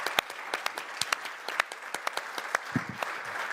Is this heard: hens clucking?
no